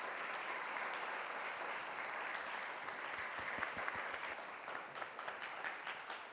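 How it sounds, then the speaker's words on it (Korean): An audience at a Christmas special testimony event at a school for the blind gives a steady wash of applause, dense but fairly soft, continuing evenly with no speech over it. "박수 부탁드립니다."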